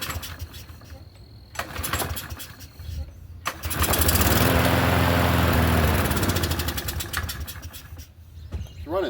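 A Troy-Bilt push mower with a carburetor problem and a pulled-back governor spring sputters, then surges into a loud, close, uneven running roar that fades back down, with clicks and handling noises around it.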